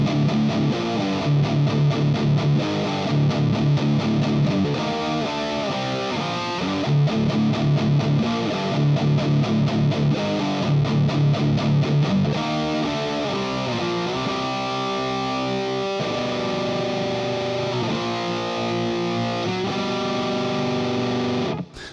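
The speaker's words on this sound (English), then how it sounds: "great for getting a sort of gritty, filthy, fuzzy kind of doomy kind of sound on there as well" A heavily distorted, fuzzy electric guitar through an amp sim plays loud chugging riffs, then shifts to sustained gritty, doomy chords and notes.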